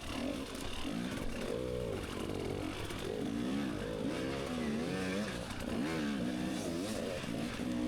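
An off-road motorcycle engine revs hard during a Tough Like RORR qualifier race. It is close and loud, and the pitch keeps rising and falling as the throttle opens and eases, with wind noise steady underneath.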